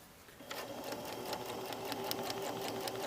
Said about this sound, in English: while I sew it.